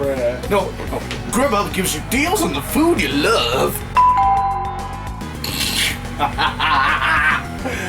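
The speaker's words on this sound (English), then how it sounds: "That's the doorbell." A two-tone ding-dong doorbell chimes once from a radio broadcast, with talk before and after.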